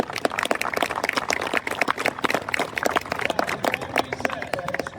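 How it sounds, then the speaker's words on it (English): Dense, steady applause from a crowd at a Chevrolet car event awards gathering, many hands clapping rapidly and continuously at close range, with some voices mixed in. "Please give yourselves a round of applause for finishing here"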